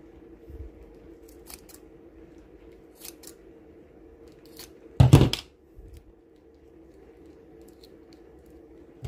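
Scissors snip through sellotape on a homemade hook-a-duck game box, making one sharp close cut amid quiet room tone and a few faint taps.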